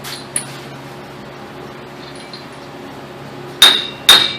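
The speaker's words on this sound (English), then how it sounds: "you're going to want to pound this axle in a little bit" A GMC Sierra axle is hammered into its wheel bearing hub: a light knock early on, then two loud, sharp metallic strikes about half a second apart near the end, each ringing briefly against a quiet garage background.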